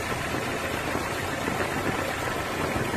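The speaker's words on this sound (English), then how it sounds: "Look at that, the engine's already gone quiet. It's running so much smoother." A car engine idling smoothly, a steady low hum that holds an even level throughout with no speech over it.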